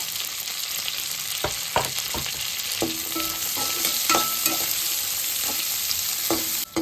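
Capsicum and onion chunks stir-frying in a hot pan for kaju chilli paneer, a steady sizzle broken by repeated scrapes and knocks of a spatula against the pan, close and moderately loud with no talking.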